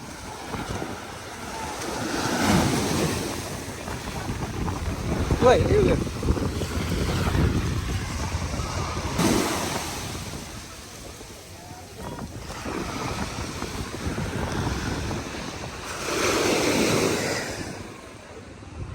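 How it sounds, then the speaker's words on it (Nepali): Ocean waves break at the beach in Ocean City, Maryland, with surf swelling and receding in slow surges under heavy wind buffeting the microphone. "समुद्र समुद्र समुद्र यस्तो हुन्छ समुद्र"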